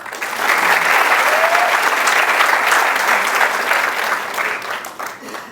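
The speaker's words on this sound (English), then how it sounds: "Give him a big round of applause." Loud, dense applause from a big audience at a lecture on Tibet and India–China relations, a thick roar of clapping that holds steady for several seconds before thinning out.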